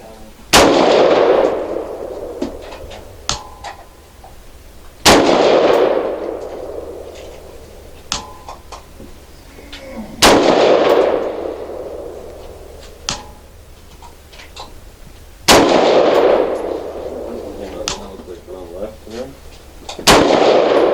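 V Seven Enlightened rifle fired five times at a controlled pace, each sharp, loud report followed by a long ringing decay, evenly spaced about five seconds apart, with no talk.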